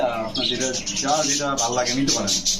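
Pigeons coo and chirp close by in a steady, overlapping chorus that never pauses, with newly hatched chicks among them.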